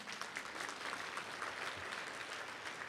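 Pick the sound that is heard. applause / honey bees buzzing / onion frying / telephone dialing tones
applause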